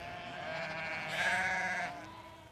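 Sheep bleat over open pasture, a drawn-out wavering call swelling in the middle and fading near the end, loud and alone with no talk.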